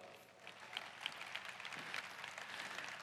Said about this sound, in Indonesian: jadi kita beri tepuk tangan untuk diri kita terlebih dahulu